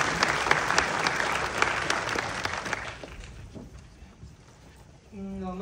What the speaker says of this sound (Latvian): aplausi, tas ir jums par